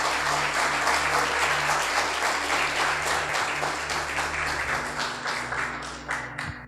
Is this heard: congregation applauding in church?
yes